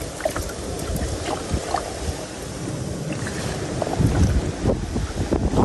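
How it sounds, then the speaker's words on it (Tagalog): Wind gusts roar across the microphone on a small boat out at sea, with water sloshing and the hull knocking, loud and continuous throughout. "kami po nililipad po ng hangin"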